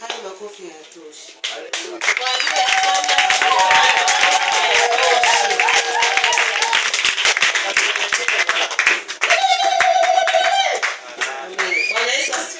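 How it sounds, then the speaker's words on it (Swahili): A church congregation claps and applauds loudly and continuously for several seconds, with voices cheering and calling out underneath, then the clapping thins toward the end. "Haya makofi yanatosha."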